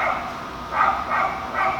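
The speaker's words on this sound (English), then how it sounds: "Dogs are really not going to let me speak." Several dogs barking indoors in repeated bursts, moderately loud, over a steady background hiss with no clear talk.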